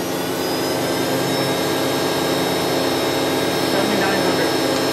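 Spindle of a Toshiba MPF-2114C three-axis bridge-type vertical die and mold machining center running at 7,000 RPM, a loud, steady, unbroken roar with a thin high whine held throughout.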